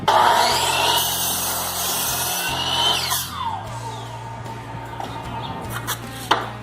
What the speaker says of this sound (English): I'm gonna trim a little bit off here.